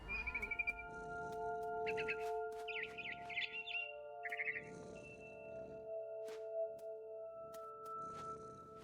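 A barn swallow chirps in What Remains of Edith Finch in short, bright bursts of twittering, clustered at the start and middle, over a steady sustained musical drone in the game's soundtrack.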